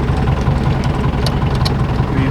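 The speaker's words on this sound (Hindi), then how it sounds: "ये है डीजल इंजन की पावर" The diesel engine of a yellow taxi runs loud and close, holding a steady low rumble with constant vibration and no clear changes in speed.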